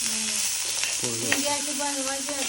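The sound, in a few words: okra (bhindi) being roasted in a pan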